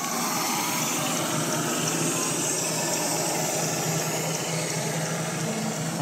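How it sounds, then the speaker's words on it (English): A tractor engine idles steadily in the distance at an amusement park queue area, a constant low mechanical rumble and hum with no other sounds standing out, fairly faint throughout. "I hear the tractor running"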